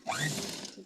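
A sewing machine attaches lace to a blouse in one brief close whirring burst of stitching.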